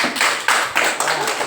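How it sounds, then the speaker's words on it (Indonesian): A classroom group claps in brief rhythmic bursts, a few quick rounds of hands close by within a second and a half. "Bisa tepuk tangan untuk kelompok 4 dulu."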